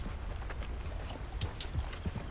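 A horse's hooves clip-clop in Red Dead Redemption 2 in an irregular walking rhythm of soft thuds and clacks at moderate volume, with no speech during the steps.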